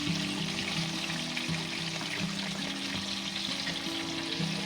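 Chicken pieces for a KFC-style zinger shawarma frying in hot oil in a pan, a dense, steady sizzle and crackle heard up close and continuously, with no talking.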